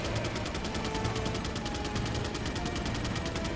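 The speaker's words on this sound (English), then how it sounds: "that sounds like Mike firing" Sustained automatic gunfire from the ally Mike in the video game Resident Evil 4 rattles as a dense, loud stream of rapid shots across the whole moment, with no talk.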